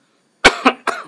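Three quick coughs in a row, close and abrupt, with short gaps between them.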